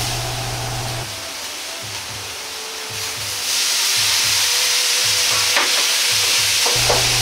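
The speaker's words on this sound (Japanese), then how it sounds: "もやしがまだ少し固めのうちに醤油ダレを入れ炒め合わせていきます。" Bean sprouts and pork stir-fry in a hot pan with soy sauce added, giving a loud, steady sizzle over rhythmic scraping and tossing, and the sizzle grows louder midway.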